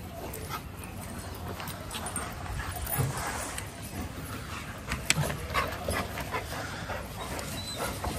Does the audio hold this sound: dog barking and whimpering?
yes